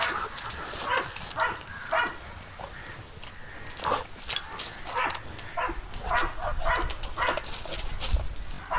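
Stud dogs at a kennel in Thrissur that keeps pugs, beagles, Rottweilers, Labradors and dachshunds bark and yip repeatedly in irregular bursts throughout, with background noise and whimpers between.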